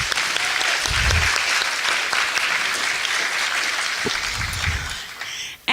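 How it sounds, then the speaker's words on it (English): Sustained audience applause fills a graduation pinning ceremony for radiologic technology students, a dense, steady clatter of many hands clapping throughout, tapering slightly near the end. "They deserve a round of applause for these accomplishments."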